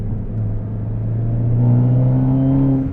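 A modified 340whp turbocharged Hyundai Elantra N accelerates hard, its engine drone climbing steadily in pitch and growing louder over three seconds, heard close from inside the cabin.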